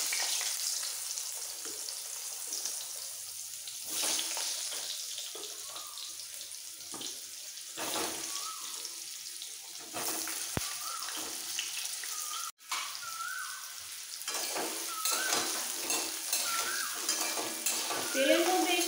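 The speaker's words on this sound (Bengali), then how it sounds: "তেলের মধ্যে একটু হালকা ভেজে নেব।" Cut potatoes frying in oil with a tempering of radhuni seeds in a pan, a steady hissing sizzle with occasional stirring clatter, close and moderately loud, no voices.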